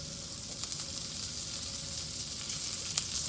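Asparagus searing in a hot pan of rendered duck fat over medium heat, giving a steady close sizzle with scattered sharp crackles and spits, and no voices.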